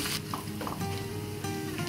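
Garlic and dried chili powder frying in hot oil in a pan for a dry plum pickle, giving a steady close sizzle with a few brief stirring scrapes and no talk.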